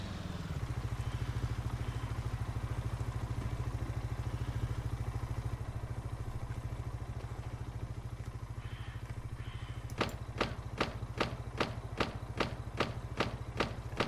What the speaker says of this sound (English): That is some weird gate opening noise.